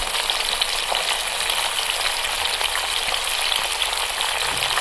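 Capsicum frying in hot oil in a pan for chilli paneer, a steady loud sizzle and crackle throughout with no talking.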